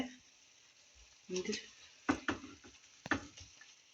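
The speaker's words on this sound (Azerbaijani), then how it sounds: "Şabal kormamızın soğanı kızardı." Onions frying in a pan for a shabalid beef dish, a soft sizzle under intermittent stirring and scraping clinks, quiet and close, with a few sharper taps.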